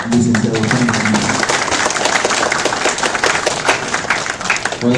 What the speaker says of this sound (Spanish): Recibamos nuevamente con aplausos al licenciado